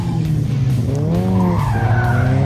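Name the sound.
car drifting with tires skidding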